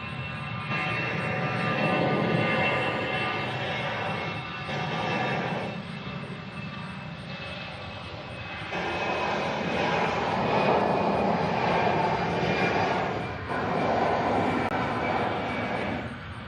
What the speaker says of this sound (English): Our next departure is the Allegiant going to Syracuse.